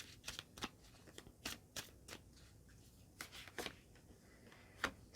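Tarot cards drawn from a deck and laid out, a series of crisp snaps and soft slaps of card stock at an uneven pace, close but quiet in a still room.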